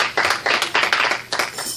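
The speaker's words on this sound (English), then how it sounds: "Give the Lord another hand clap." A church congregation at a Wednesday night revival claps hands together in praise, a loud, dense burst of many overlapping claps in uneven rhythmic waves, fairly close and with no talk over it.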